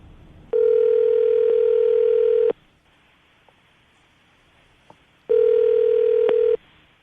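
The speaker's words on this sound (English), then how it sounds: "I'm going to dial the phone number right now" A landline telephone handset plays two long, steady dial-tone bursts, each about two seconds, close and loud, separated by a quiet gap with a couple of faint clicks as keys are pressed to dial a number.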